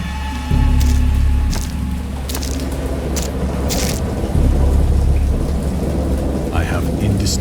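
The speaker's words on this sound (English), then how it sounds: "I have indistinct recollections of a great storm sometime after I reached the boat." A storm with steady heavy rain and deep rolling thunder, loud throughout, with sharp cracks of noise and a voice faintly audible beneath the downpour.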